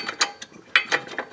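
A bolt threaded by hand into the serpentine belt tensioner of a 2006 Honda Ridgeline 3.5L, giving a few close, brief metallic clicks and scrapes in an irregular rhythm with no talking.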